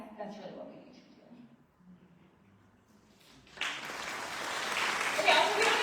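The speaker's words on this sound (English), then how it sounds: "we don't need to clap after every answer" Town hall audience in El Cajon bursting into applause midway through, a sudden broad wash of clapping that swells and holds to the end after quieter murmuring and talk.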